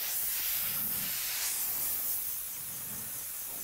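Paint spray gun spraying a coat onto an anodized part, a close, steady airy hiss that eases slightly toward the end.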